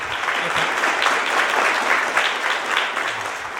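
An audience at a mall singing competition bursts into sustained, dense applause with steady clapping throughout.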